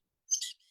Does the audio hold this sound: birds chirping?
yes